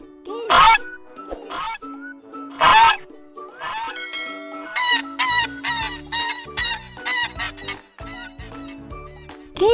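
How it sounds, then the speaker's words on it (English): A goose honks repeatedly, loud and near: a few spaced calls at first, then a rapid run of harsh, nasal honks, with quieter gaps between bursts. "Goose."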